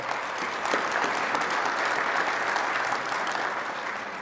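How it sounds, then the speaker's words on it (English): An audience at the Earl Campbell Tyler Rose Award announcement gives a round of applause. The clapping is loud, dense and sustained without a break for several seconds. "Let's give them a round of applause as they make this possible."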